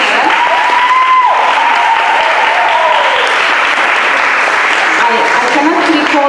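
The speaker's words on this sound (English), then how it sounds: "Please give a round of applause to Diane." Audience applause at a linguistics showcase event, a steady wash of clapping from a crowd sustained for several seconds, with a voice briefly audible over it.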